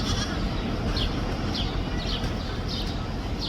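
Pygmy goats, kids among them, on a small animal farm with rocks to climb: repeated short bleats spaced through the clip, fairly faint and a little distant over a steady rumble of outdoor wind and background noise.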